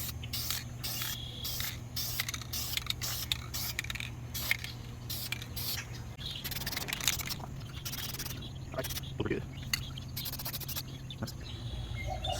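Spray paint hissing onto a brake caliper of a Lexus IS350 during a heavy second coat, in a steady continuous rush with repeated short bursts and pauses between passes, close up, with no talking.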